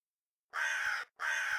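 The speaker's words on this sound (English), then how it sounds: "Several of the crows barked their disapproval, fluttering their ebony wings" Two loud, harsh crow caws ring out one after the other, close by, each about half a second long with a short gap between them, used as a sound effect in an audiobook.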